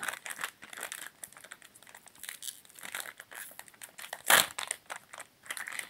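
Crinkly plastic packaging is crumpled and torn open in irregular bursts, with one sharp loud rip near the end.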